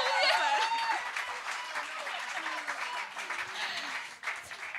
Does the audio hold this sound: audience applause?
yes